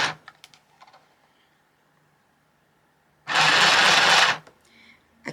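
A small Temu sewing machine stitching along a fabric edge gives one loud, steady mechanical whirr lasting about a second, preceded by quiet clicks and handling noises.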